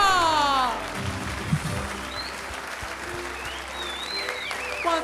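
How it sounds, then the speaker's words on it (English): A comedy club audience applauds for comedian Martin Beaumont, a dense wash of clapping that starts strong and then settles to a steady, slightly softer level, with a voice speaking over it at the start. "That deserves another round of applause."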